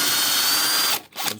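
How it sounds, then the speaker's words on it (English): A power drill whines steadily at high speed while boring a pocket hole into wood with a Trend pocket hole jig, then cuts off and briefly revs again. "clearing the drill as I go,"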